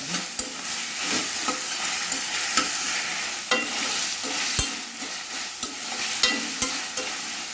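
Tomato sautéing with ginger and garlic in a pan over a slow flame, a continuous sizzle punctuated by regular scraping stirs and spoon knocks against the pan.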